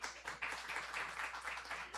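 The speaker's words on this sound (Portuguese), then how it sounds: "Uma salva de palmas, por favor." Audience clapping at a literary festival panel as participants are called to the stage, a steady patter of many hands, moderately close and fairly quiet throughout.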